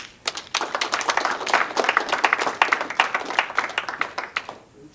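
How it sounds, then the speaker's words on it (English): A small audience at a community social event claps, the sharp individual claps distinct and uneven, fairly close and loud before tapering off near the end. "Clap it up."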